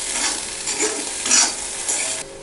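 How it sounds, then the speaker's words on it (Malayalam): Bitter gourd sautéing with salt in a pan, steady sizzle broken by several stirring scrapes and clatters, close and fairly loud, no voices. "അല്പം ഉപ്പും ചേർത്ത് നമുക്കിത് വഴറ്റിയെടുക്കാം"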